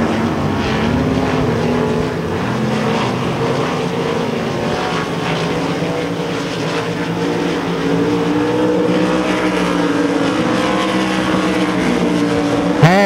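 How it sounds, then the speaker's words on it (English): Race cars circle the dirt track at Devils Bowl Speedway, with a continuous loud engine roar that rises and falls as cars pass, and no talking in the clip. "Taylor Courtney moving out to a pretty good lead over the second place car"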